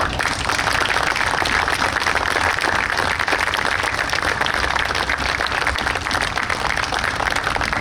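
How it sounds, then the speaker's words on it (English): An outdoor crowd on bleachers at a New York State Police special operations exhibition applauds in a loud, steady, unbroken wash of clapping with no talk over it. "we think it's those guys that deserve a real round of applause today"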